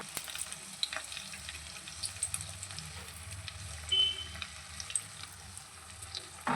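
Pieces of paneer frying in hot oil, a steady soft sizzle with occasional bubbling pops and a light clink partway through.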